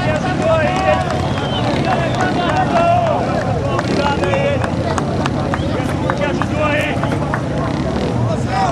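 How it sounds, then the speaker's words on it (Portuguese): Strong wind buffets the microphone at an outdoor festival in Brazil, a steady loud roar filling the whole stretch, with voices talking and faint crowd sounds underneath. "Olha o vento que pega lá, pelo amor de Deus. Que vento que é esse?"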